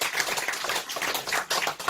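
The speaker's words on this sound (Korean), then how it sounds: "박수 한번 쳐요." A small gathering claps together at an outdoor meeting, a brief burst of dense, steady applause in close, even patter lasting under two seconds.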